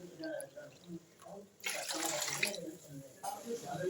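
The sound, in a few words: washing rice in water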